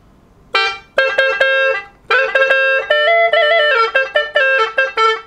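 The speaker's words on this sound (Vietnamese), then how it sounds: "Mở bè đấy mọi người nghe tiếng này." Vietnamese gourd flute (sáo bầu) played with its drone pipes open, sustained reedy notes with a held drone underneath, several short phrases with pauses, no voices.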